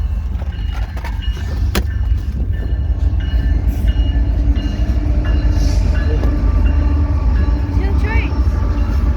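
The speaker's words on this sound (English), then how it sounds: "There's a train coming." A BNSF freight train rolls by close and loud, its deep steady rumble filling the whole stretch while people talk over it now and then.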